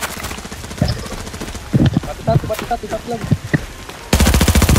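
Gunfire in the shooter game Arena Breakout: scattered single shots and short bursts, then a sustained loud automatic burst at the end, with players talking over the firing.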